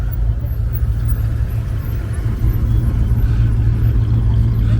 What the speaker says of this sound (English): We got a Superbird rolling up.